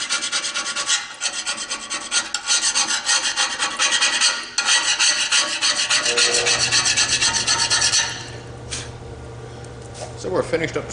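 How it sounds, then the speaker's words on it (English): Hand scraping on the cast table of a small vertical bandsaw gives a dense, continuous scraping and rasping at close range. The strokes repeat steadily, and a low hum joins in later. "So we're finished up scraping on our little classified ads vertical bandsaw we found for cheap."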